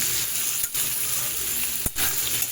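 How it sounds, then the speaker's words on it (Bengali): Potatoes stirred into pointed gourd (potol) frying in a pan for a prawn and potol dish, a steady close sizzle with two brief stirring scrapes. "আলুটাও একটু ভালোভাবে নেড়ে চেড়ে নেব"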